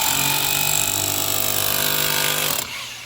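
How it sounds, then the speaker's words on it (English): A hammer drill grinds steadily into a fence, loud and close with a constant buzzing roar, then cuts off abruptly near the end, leaving a quieter background. "I'll let you try the hammer drill, Mia."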